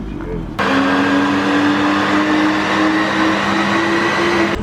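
A BMW M2 engine on a dyno run kicks in abruptly and revs hard, holding a loud, steadily climbing roar for several seconds with a voice faintly under it.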